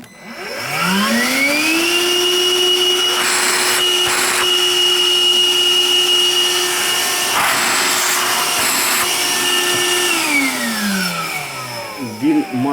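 A Bosch GAS 18V-10 L cordless vacuum cleaner whirs up, holds a steady high hum for several seconds with brief handling noises, then winds down.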